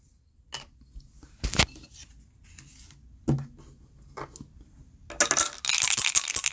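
Dice clatter in a cup and tumble onto a tabletop for an APBA baseball board game, a few sharp rattling bursts with quiet gaps before a longer, louder scattering roll at the end.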